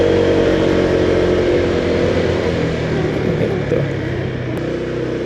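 A Honda PCX 160 scooter's engine runs at a steady idle, a low, continuous hum and rumble heard close up without talking.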